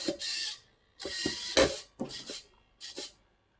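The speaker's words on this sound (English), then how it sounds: "let's now tighten that screw" A screw is tightened on a vintage 1984 Tamiya Mitsubishi Pajero RC car, giving five short, close, quiet bursts of ratcheting and grinding separated by brief silences.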